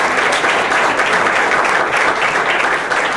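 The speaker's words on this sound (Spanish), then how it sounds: "recibamos con un fuerte aplauso" A crowd welcomes a speaker at a corporate event in Chile with loud, dense applause that stays full and steady throughout, with no talking over it.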